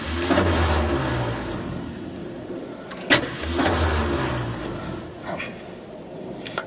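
Starter of a Ford Ranchero cranking the engine in repeated bursts, with rhythmic churning and clunks and a sharp knock near the middle, which does not catch and run.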